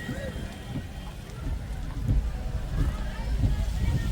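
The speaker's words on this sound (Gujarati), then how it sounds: "વરસાદ ચાલુ છે વરસાદ બગડાટી બોલાવે" Heavy rain pours steadily at a Shravan month fair in the hills, a dense, continuous wash of patter that swells slightly in the second half, with indistinct voices mixed in.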